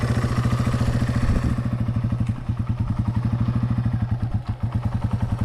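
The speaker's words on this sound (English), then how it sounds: "you can let this thing idle and it will just idle along like this" A motorcycle engine idles close by with a steady, even pulsing putter that runs throughout, with slight wavering but no revving and no talk.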